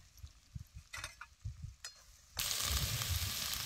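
Ground spices and masala paste frying in oil for a village-style chicken dish: low stirring thumps at first, then a sudden loud, continuous sizzle as the mixture hits the hot oil.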